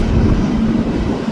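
An empty CPKC coal train rumbles past a level crossing near Sapperton station, a close, heavy low drone with wind buffeting the microphone.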